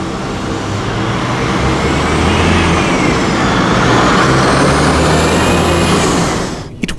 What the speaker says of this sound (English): Cities are such a noisy place, with cars, trucks and buses driving around on the streets.